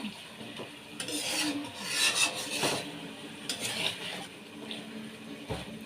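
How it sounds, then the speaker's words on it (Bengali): Goat meat is stirred and sautéed in a pot with a spatula, giving a steady scraping and sizzling rasp with uneven strokes close by and no talk. "ভালো করে কষিয়ে নেব মাংসটা।"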